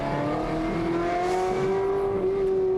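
Ferrari 360 Modena engine revving high and steady during a drift, a loud sustained tone climbing gradually in pitch over a rough road and tire roar, with no talking.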